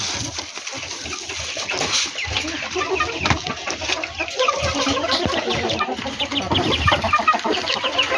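Hill chickens cluck steadily throughout, a busy flock close by with overlapping calls and scratching sounds, no talking.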